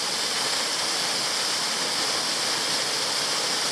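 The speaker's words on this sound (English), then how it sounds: "I've made it to Camp Falls. It's not a big waterfall, it's probably a 5-metre drop" Camp Falls, a small waterfall in Tasmania with a drop of about five metres and a reasonable flow, gives off a steady, loud, close rushing roar of falling water with no other sounds.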